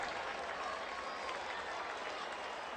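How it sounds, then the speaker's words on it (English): Crowd noise from Action PC Baseball 2023, a baseball video game, roars as a steady, dense wash of cheering and clapping that keeps up for the whole stretch without a break. "So the crowd reacts as if everything is a home run"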